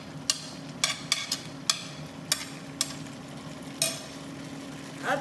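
Spring onions frying in a pan with a spoon scraping and knocking against the metal in irregular sharp clicks over a low steady sizzle, close and alone.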